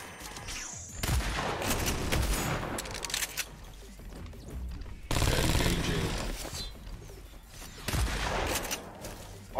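Gunfire in the video game Agents of Mayhem, loud bursts of rapid shooting and explosive impacts in three dense waves with brief lulls, mixed with game effects.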